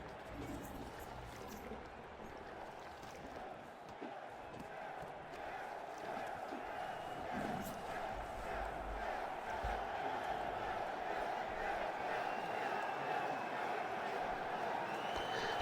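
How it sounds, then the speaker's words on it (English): An arena crowd in the city-building game CivCity: Rome gives a continuous, fairly distant roar of cheering that builds gradually over several seconds, with a low rumble underneath. "Listen to the lovely sounds of the crowds."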